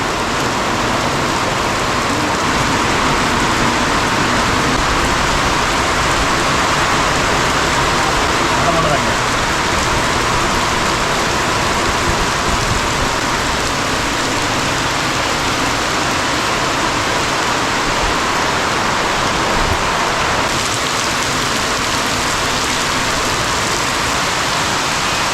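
Heavy rain pours steadily in a forested tribal village area, a dense, even hiss of falling water continuing without break for the whole stretch.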